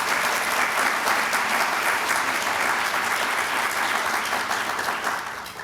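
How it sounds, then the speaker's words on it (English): An audience at a Delta Omega induction ceremony gives steady, full applause that holds strong throughout and fades slightly at the very end. "Big round of applause."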